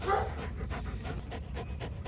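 A dog pants in quick rhythmic breaths close by indoors, a steady run of short huffs lasting about two seconds, with no talking.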